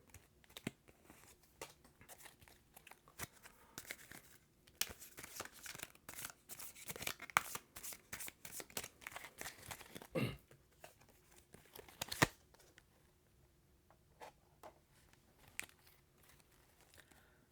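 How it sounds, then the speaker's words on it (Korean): Tarot cards being handled and drawn from the deck: quiet, close, irregular clicks, taps and papery rustles in scattered bursts, with no talking. "다른 카드 또 한 장 더 뽑아보도록 하겠습니다"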